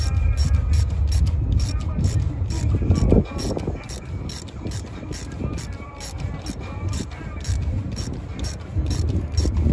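A stubby ratchet clicks in quick repeated bursts while tightening the bolts of a cast oil filter housing on a Mercedes, with someone speaking over the work.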